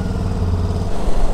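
A touring motorcycle pulling away with the clutch biting: a loud, close engine rumble throbs steadily and gets a little rougher near the end, with no talking.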